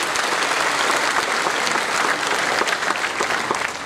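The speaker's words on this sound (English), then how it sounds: "A big round of applause, ladies and gentlemen" Loud, sustained applause from an audience at an Indian Navy band performance, steady dense clapping filling the whole stretch without a break.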